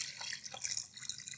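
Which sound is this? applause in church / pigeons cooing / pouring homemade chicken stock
pouring homemade chicken stock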